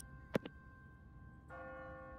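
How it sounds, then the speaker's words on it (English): An automatic church bell on a timer in The Walking Dead video game, a sharp clanging strike followed by a sustained ringing tone that swells in partway through, moderately faint with no talk. "No one's ringing that bell. It's automatic. On a timer. What kind of church bell goes off at 20 past the hour?"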